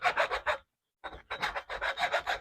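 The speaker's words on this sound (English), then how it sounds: "we'll saw a little bit more off of this part here" A small hand saw cuts rotten wood off a rescued Brassavola orchid's mount in short, close, rasping strokes. A quick burst of strokes comes first, then a brief pause, then a steadier run of strokes.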